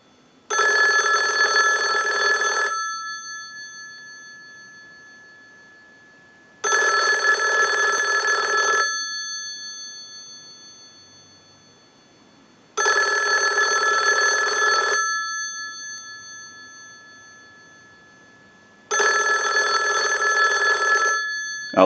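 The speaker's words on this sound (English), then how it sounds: "send a ring cycle like you were getting a call" Western Electric 500 rotary desk telephone bell rings in four long bursts of about two seconds each, separated by roughly four seconds of silence, loud and close, in a steady ring cycle like an incoming call.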